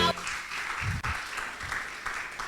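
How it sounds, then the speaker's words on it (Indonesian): A church congregation claps in applause during a sermon, a moderate wash of clapping with some voices mixed in. "Boleh berikan tepuk tangan bagi kita semua."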